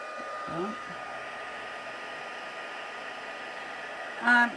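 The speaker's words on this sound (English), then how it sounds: "We'll just heat set that." A heat tool used to heat set a handmade card blows a steady, moderately loud airy whoosh for several seconds, like a small hair dryer. A few faint voice sounds come through near the start and again near the end.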